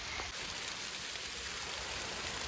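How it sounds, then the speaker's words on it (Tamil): Heavy monsoon rain pours down in the hills of Munnar, a steady, dense hiss of downpour heard from shelter beneath a large rock, unbroken and fairly loud throughout with no voices. "It started raining crazily, so we found a big rock to get some shelter."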